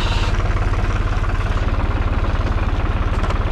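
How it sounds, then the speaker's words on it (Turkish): A Same Frutteto tractor engine idles loud and close with a steady, fast, even thumping rhythm and no pauses. "Şimdi traktörü çalıştıralım."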